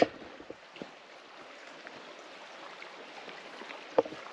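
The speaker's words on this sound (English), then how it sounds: "we have our very own Babbling Brook" A babbling brook flows beside a forest road campsite, giving a soft, steady wash of running water at moderate distance, broken by a couple of brief close knocks.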